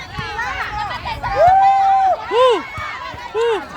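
Volleyball spectators shout and cheer in a crowd, with loud rising whoops and yells breaking over a steady background hubbub of chatter.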